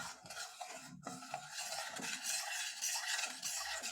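A spoon steadily stirring milk into lasagne sauce in a pot, giving a continuous scraping swirl with faint bubbling, close and without talk.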